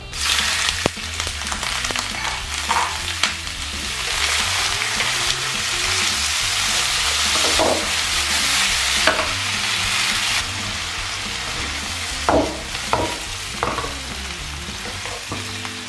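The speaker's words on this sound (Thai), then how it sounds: "เดี๋ยวเจียวกระเทียมให้หอมสักครู่นะครับ ใส่หมึกลงไปครับ" Squid and garlic stir-fry in a hot pan, giving a dense, continuous sizzle broken by repeated scraping and clanking of a spatula, close and fairly loud with no talking.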